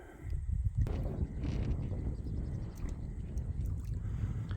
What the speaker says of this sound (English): Right, now that wind's coming up